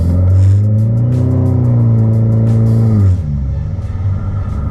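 A custom-built car exhaust roars loudly at a sustained half-throttle rev for about three seconds, then drops back to a lower, rumbling idle.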